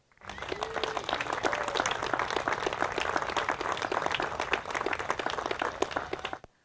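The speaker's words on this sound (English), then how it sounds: "So I want to give a round of applause to Cindy." Crowd applause at an outdoor park celebration during a ribbon-cutting event, steady dense clapping that holds for several seconds at moderate loudness, with a few faint voices underneath.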